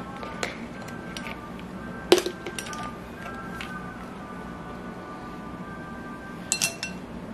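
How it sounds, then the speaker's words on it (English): A lid is pried off a seasoned salt container in a kitchen, with a sharp click partway through, a few light clinks before and after, and soft background noise. "let me get this lid off"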